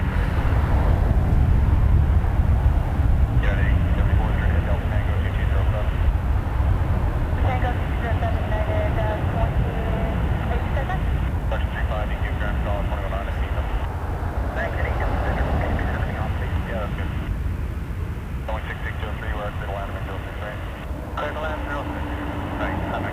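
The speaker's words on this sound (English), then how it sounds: "Jazz 694. Off to Boston. Embraer 175." A Jazz Embraer 175 airliner departs Toronto Pearson for Boston, its steady engine roar sounding at a distance beneath a person talking almost throughout.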